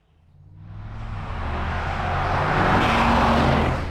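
A 2024 Mercedes G-Class G Wagon, the non-hybrid 463 model, drives past, its engine rising from quiet into a loud, steady roar as it draws near and holds close, with no talk.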